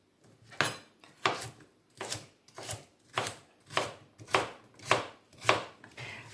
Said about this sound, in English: Now I'm simply just going to slice this